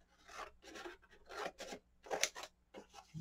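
Paper being cut with scissors for a 3x4 mini book, giving a series of close, dry rasping snips and rubbing strokes in uneven bursts with brief pauses between.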